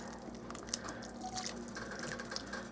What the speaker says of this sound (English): Okay, I just pour it in there